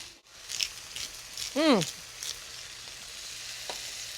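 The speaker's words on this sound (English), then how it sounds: "That's how easy it is to stir fry vegetables" Vegetables stir-fry in a hot pan with a soft, continuous sizzle, joined by a few scattered scrapes from the stirring; a brief voice rises above the frying partway through.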